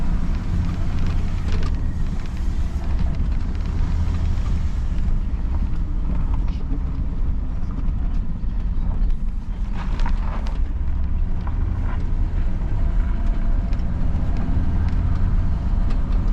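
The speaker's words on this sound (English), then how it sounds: "Yeah, there is a hard miss, but it's driving, kinda." An old parts truck drives down a road with a hard engine miss, its uneven, rough rumble steady and loud throughout, mixed with wind buffeting the microphone and no clear talking.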